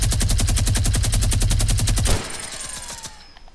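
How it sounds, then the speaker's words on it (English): A minigun in a video game fires one long, rapid, continuous burst of loud, tightly spaced shots that stops abruptly, followed by a short decaying rumble and tail. "look, come to my shooting. My minigun sounds."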